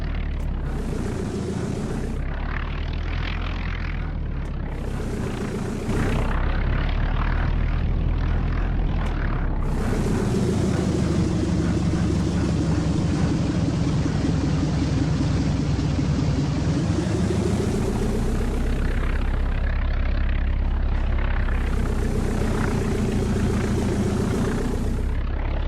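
A Tiger light aircraft taxis at Clairmarais Aerodrome in X-Plane 12, its propeller engine droning loud and continuous, with the pitch rising and falling as power changes.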